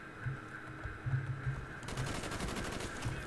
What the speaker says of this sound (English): Intense sniper battle. With an assault rifle.